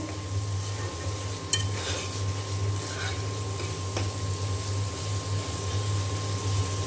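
Spice paste frying and being stirred in oil after cooking down until the oil separates: a steady low sizzle with soft scraping and a clink near the start, continuous and close, with no voices.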